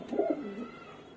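A brown Madrasi pigeon with pink eyelids gives a single short, soft coo, close by and alone.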